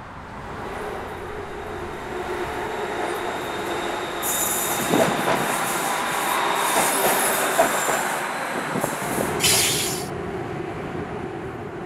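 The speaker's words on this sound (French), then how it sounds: "Un système de trains surélevés a été mis en place." An elevated train in Bangkok rolls past with a steady rumble, rising clatter and high metallic wheel squeals midway, no voices.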